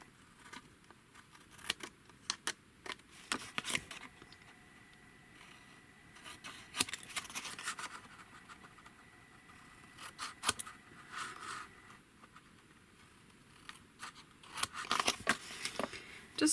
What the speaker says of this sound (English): and then we're going to cut the corners, leaving about 1/8 of an inch